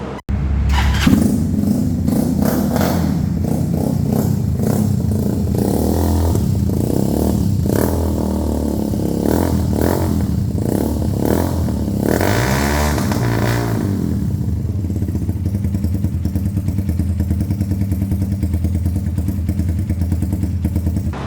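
A Superstar 200cc motorcycle fitted with an SC Project exhaust starts and runs loud and close, with a steady deep exhaust burble, a few throttle blips and clattering mechanical noise, alone without talk.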